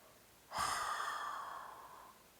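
A single long exhale during a gentle yoga exercise, a close, soft breathy rush that starts abruptly and slowly fades over about two seconds, alone in a quiet room.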